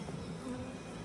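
Honey bees hum steadily in an open brood colony with a football-sized brood nest, a soft continuous buzz at close range with no voices.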